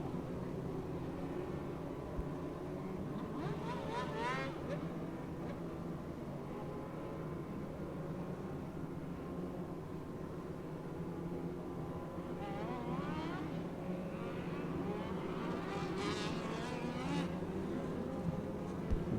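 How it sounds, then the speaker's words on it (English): Dirt-track race car in an A Class feature at Port City sliding to a stop in the infield, steady engine noise from the field continuing under distant announcer talk and crowd ambience. "problems for Chris Carroll as he comes to a sliding stop in the infield"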